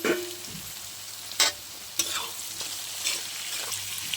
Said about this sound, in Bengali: এবার আমি মাংস, ডিম আর চিংড়ি মাছ ভাজাটা একসাথে মিশিয়ে দিলাম।